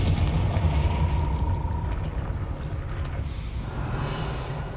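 A Confringo blasting spell explodes against a gate in the Hogwarts Legacy video game, a loud, heavy boom with a rumbling low-end tail that fades over a few seconds.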